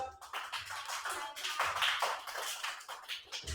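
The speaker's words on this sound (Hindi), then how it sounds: "Clap for Ayesha." A few people clapping for a child named Aisha, quiet irregular hand claps at close range, light and brief, spread over a few seconds with no talking.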